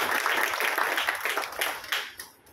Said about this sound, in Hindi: उसके लिए जोरदार तालियां बजा देंगे आप